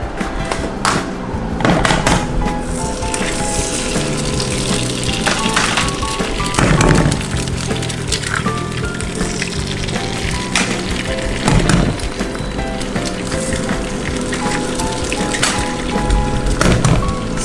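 Eggs sizzling sunny side up in a hot pan for breakfast, a steady crackling fry running throughout with a few louder pops and clatters along the way, no talking over it.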